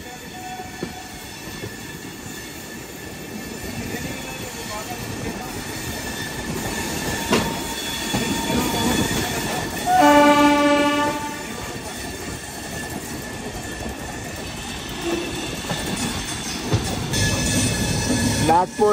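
Onboard the Chennai to Jaipur Superfast Express, a steady loud rumble of wheels on track continues throughout, with a brief horn-like tonal blast midway and occasional squeals, while a voice speaks faintly at times.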